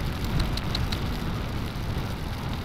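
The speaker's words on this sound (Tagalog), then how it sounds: "So umuulan na naman. Ay nako. Parang lumalakas pa yung ulan." Rain falling in Dipolog, Philippines, heard from a rider on a Honda motorcycle, a steady broadband hiss of rainfall mixed with low road and wind rumble, with a few faint high clicks early on and no talking.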